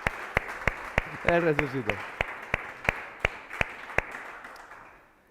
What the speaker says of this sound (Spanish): ¿Usted quiere aplaudir? Pues aplauda.